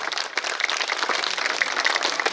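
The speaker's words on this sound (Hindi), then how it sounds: "ये बच्चों के लिए आप एक बार जोरदार तालियां बजाइए।" Audience members at a school annual function clap for the children, a steady, moderately loud patter of many hands continuing throughout the short stretch.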